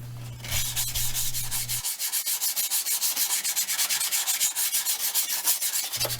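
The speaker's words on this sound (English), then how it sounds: "I just give it a quick sand to get rid of any sharp edges." The edges of a wooden cordless-drill organiser are hand-sanded with quick, rhythmic back-and-forth rasping strokes, close and loud. A low steady hum underlies the first and last parts.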